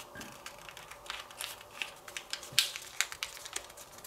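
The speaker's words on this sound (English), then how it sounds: "So fold in half and insert it into the pocket." A paper origami heart card is folded in half and slid into its pocket, giving soft, quiet paper rustles and a string of light, crisp clicks and taps close by, with no talking.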